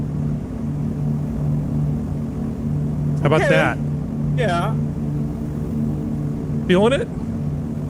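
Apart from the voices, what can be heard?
B-17 bomber engine noise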